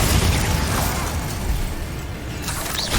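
Bombarda, an explosion spell cast in the video game Hogwarts Legacy, producing a loud, dense, rumbling blast that stays heavy for several seconds and then fades, with a brief crackling flare near the end.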